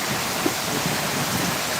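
Heavy rain pours down in a steady, dense hiss that is loud and close, with no voices over it.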